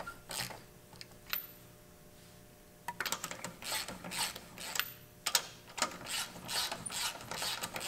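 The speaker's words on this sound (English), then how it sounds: "you can take your ratchet and kind of help yourself like this" Close, repeated ratchet clicks snug the brake bolts on a Mercedes-Benz E350 (W212). Quick pawl ticks come in uneven bursts, with a quiet pause before a denser run of clicking.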